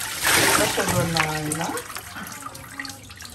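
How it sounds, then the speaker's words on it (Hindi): Water poured over a baby's lowered head during a bath, a short splashing gush at first that fades to a softer trickle, with someone talking over it. "तो इस तरह पर सर नीचे करके अपने पानी डाल देना है"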